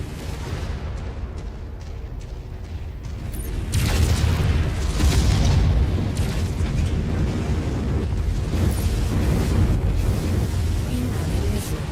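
Missile explosions in the MechWarrior 5 video game, a loud rumbling barrage of booms and blasts that swells after a few seconds and stays heavy and continuous.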